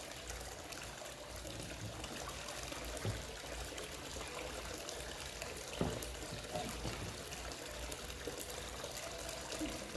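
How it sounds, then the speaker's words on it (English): Water trickling into a water hole dug for a gold-prospecting dream mat and hyper concentrator, a steady close wash and splash of flowing water throughout with faint scooping knocks. "Scoop this right in the water hole."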